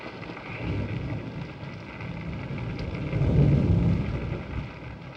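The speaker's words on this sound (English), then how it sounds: "It's raining." Rain falls outside in a 1941 horror film scene, a soft, steady low rush that swells briefly and then eases, with no voices.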